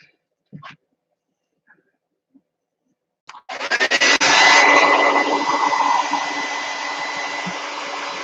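A hair dryer blasts on to dry metallic paint on an altered large tin, a loud steady whooshing roar that starts abruptly after a few faint taps and continues unbroken to the end.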